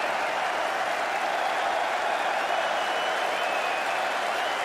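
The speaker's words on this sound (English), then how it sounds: "Oh, look at the applause." Sustained applause from a large cricket crowd, a dense wash of clapping heard from a distance, steady throughout.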